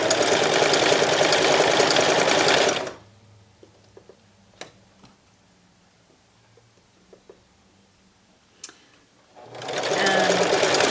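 A sewing machine stitches polar fleece, a stretchy knit, for a stuffed bat pillow, running loud and steady for about three seconds, then stopping into near silence broken by a few soft clicks, before starting up again at full speed.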